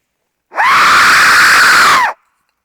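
A single loud, sustained human scream lasting about a second and a half, starting and ending abruptly, close and alone against silence during a night ghost hunt at Cannock Chase.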